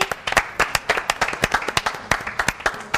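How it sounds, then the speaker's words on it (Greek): A studio audience at a Greek Easter television show applauds the orchestra with brisk, dense, uneven clapping that fills the whole stretch, loud and close. "Να χειροκροτήσουμε παρακαλώ πολύ"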